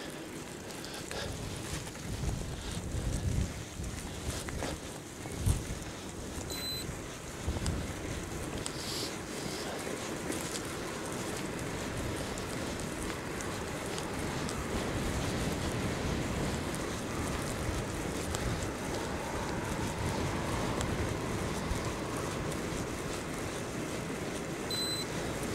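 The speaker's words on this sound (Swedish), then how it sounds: "Ja, det blåser rätt så hårt idag." Strong northwesterly wind blowing across the coast of southern Öland in December, a steady broadband roar with gusting surges and microphone buffeting, loud and continuous throughout without any talk.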